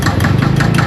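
The engine of a Benelli TNT25 motorcycle runs steadily, a loud, close, rapid throbbing rumble with a rhythmic pulsing exhaust beat and no talking over it.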